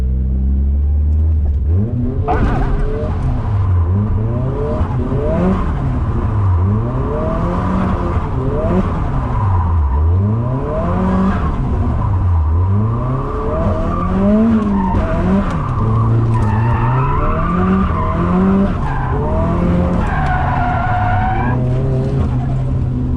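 Drift car with a clutch-kick driving style, its engine revving hard and rising and falling in repeated swells while the tires skid and squeal loudly and continuously, close and with no talk.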